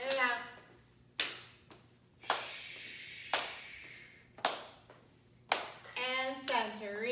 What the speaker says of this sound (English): Clap it, clap, clap. Take it low, clap, clap.